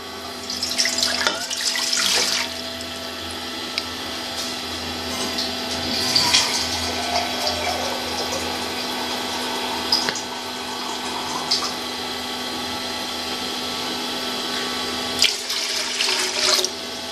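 Water runs steadily from a tap into a pressure cooker for a pressure-cooked mutton paya dish in a kitchen, a continuous gushing splash at moderate loudness with a few clanks of metal handling along the way, and nobody talking.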